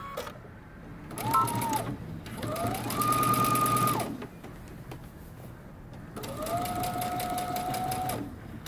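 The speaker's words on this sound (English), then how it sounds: "Now we can go to the sewing machine and sew in between our dots." A sewing machine stitches pleats on a Simplicity 8301 jumper in two distinct runs, each a steady whirring burst of a couple of seconds, separated by pauses filled with quiet handling noises; the motor sounds close and moderately loud.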